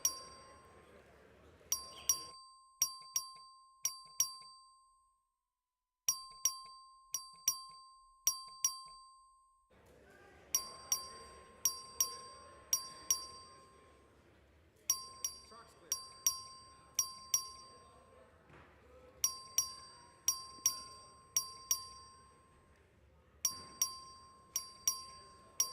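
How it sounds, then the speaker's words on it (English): A clerk rings a voting bell in a legislative chamber: bright, sharp metallic dings in quick repeated bursts of three to five strikes, separated by short pauses, with faint room murmur beneath. "The clerk will ring the bell."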